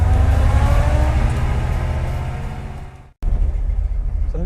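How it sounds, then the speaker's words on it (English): A car engine runs steadily on a short drive around town, loud and close, its low drone fading slightly before a brief cut and then a renewed rumble with the engine revving. "So I'm just going to be going on a short drive today."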